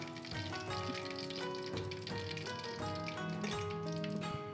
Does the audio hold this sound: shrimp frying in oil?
yes